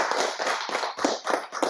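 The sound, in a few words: audience applause after a presentation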